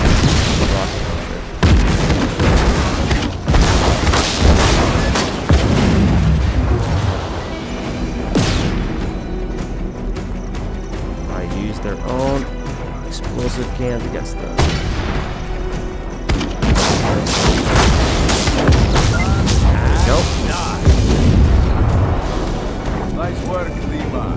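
Grenade blasts in the video game Just Cause 3, repeated loud booming explosions with gunfire-like cracks over dense in-game noise, heavy and continuous throughout with several clustered bursts.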